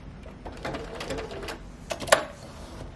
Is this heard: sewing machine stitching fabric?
yes